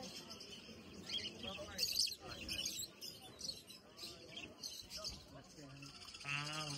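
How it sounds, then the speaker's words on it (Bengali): Many birds chirp and tweet continuously at a bird market in Qatar, a busy mix of calls at moderate distance with a few coos, while people talk nearby. "এটি জঙ্গলি মঙ্গলি পাখি বলে।"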